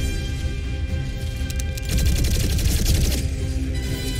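Bullets fired in the game Xenoblade Chronicles 3, a steady stream of gunshots that grows louder partway through over a constant background of game music and effects.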